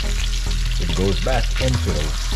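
Liver and onions fry in a pan with a loud, steady sizzle, and a few brief stirring or turning sounds come through close by.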